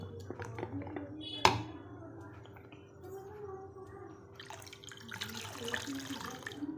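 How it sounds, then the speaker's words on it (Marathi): Water is poured into a pot of cooked, mashed dal: a soft splash and trickle, faint and close, with a brief knock near the start and a louder pour toward the end. "पाणी टाकून घ्यायचं आहे"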